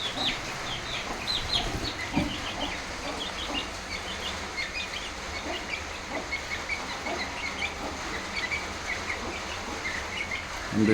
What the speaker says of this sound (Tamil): 2மே சண்டைக்கோழி.